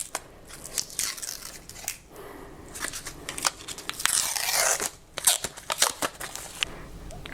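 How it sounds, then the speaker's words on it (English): Brown paper backing is peeled off an acrylic keychain close up, producing crackly tearing and rustling bursts in uneven spurts, some brief and sharp, one longer crinkling stretch, with quiet gaps between. "let me take the brown paper off so it can look prettier."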